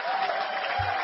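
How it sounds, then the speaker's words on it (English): Brief burst of audience applause at a talk, a continuous even wash of clapping from a gathered crowd, slightly muffled and band-limited, with a low thump near the end. "give yourself a round of applause."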